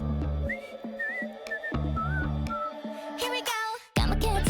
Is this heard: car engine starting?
no